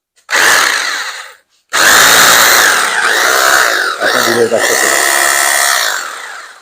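An electric drill whirs loudly in two bursts, a brief spin, a short pause, then a longer sustained run that wavers in pitch as it loads, close up, during a home electrical wiring job.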